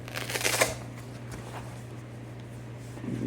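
A screwdriver kit is packed back into a fold-up toolkit during a Dell Latitude E7440 laptop upgrade, giving a brief close rustle and clatter of fabric and plastic, followed by quiet room hum.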